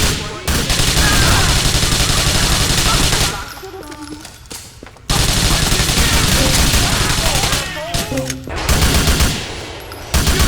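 Gunfire in a GTA video game, dense sustained bursts of rapid automatic shots broken by short pauses, loud and close, with game ambience and no voices.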